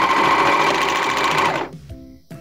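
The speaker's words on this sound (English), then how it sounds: "I'm gonna go take my elastic and pull it off to the side and serge right over it." Serger running fast over elastic on swimsuit fabric: a steady, close mechanical whir for about a second and a half, then stopping, with a couple of small clicks after.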